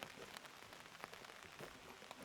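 Steady rain pouring down on a golf course, a dense continuous hiss with scattered drop patters, moderately loud and with no voices.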